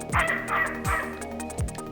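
A dog named Alice barks in the video game Snatcher: three short, sharp woofs spaced about evenly, close and clear over a humming synthesized background.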